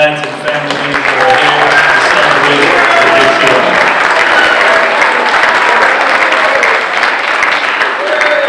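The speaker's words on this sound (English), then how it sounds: "a big round of applause for moms and dads and family members" Dense crowd applause for parents and family members at a construction signing day event, a loud sustained clapping that fills the whole stretch with a few voices mixed in.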